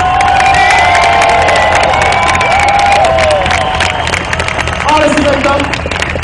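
A loud crowd cheering and shouting at a drift show, a dense sustained roar of voices with whistles and excited yells, close and continuous, with a few shouted calls rising above it.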